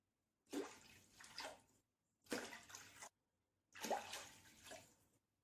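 Water poured from a glass into a pot for mutton mandi rice, in three separate splashing pours of about a second each with short silent gaps between them, close and clear.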